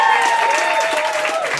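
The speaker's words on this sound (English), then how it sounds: "Round of applause for Finley, please." An audience applauds, dense continuous clapping with some cheering at a talk, while a faint whistled birdlike tone lingers over the clapping.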